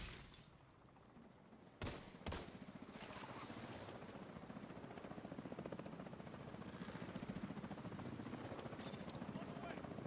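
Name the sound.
enemy helicopter approaching in a video game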